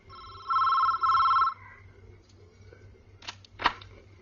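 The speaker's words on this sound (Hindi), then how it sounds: "चलो फोन उठाओ।" A telephone rings indoors with two short electronic trills in a row, moderately loud, followed by faint handling clicks and rustle as it is picked up, with no speech.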